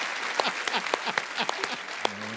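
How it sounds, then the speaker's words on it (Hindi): TV comedy show studio audience breaking into applause, a full crowd clapping with sharp individual claps standing out near the front, a brief tonal note rising near the end. "ठोको ताली।"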